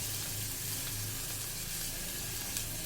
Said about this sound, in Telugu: ఇవన్నిటిని ఒకసారి వేయించుకుందాం.